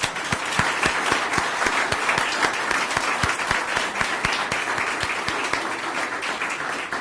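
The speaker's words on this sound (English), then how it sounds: "Let's give yourself one more round of applause" Steady, dense applause from the audience at a speech and essay contest awards ceremony, many hands clapping continuously for several seconds, with a few sharper claps standing out near the front.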